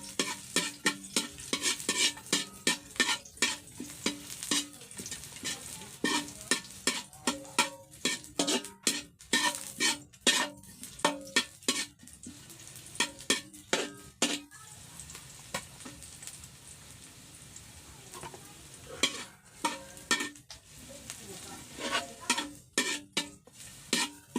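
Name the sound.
onion frying and stirred in pan with pork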